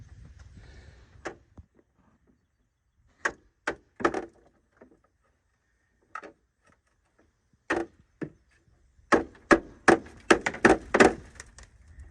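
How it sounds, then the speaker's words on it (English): Sharp hammer blows ring off a long metal screwdriver wedged between the hood support braces of a 2007 Freightliner truck, a few spaced strikes, then a quick cluster of hard taps near the end, close, no talking. "take this long screwdriver, go in between these braces here, and hit it with a hammer"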